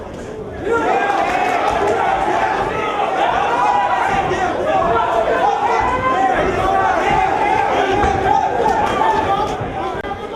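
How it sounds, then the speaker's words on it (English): A crowd cheers and shouts at a Cleveland Golden Gloves amateur boxing match in the Ohio Technical College building downtown, a loud, dense roar of voices that swells early and holds steady throughout. "Very good crowd here supporting these boxers here at the Ohio Technical College building on close east side of downtown Cleveland"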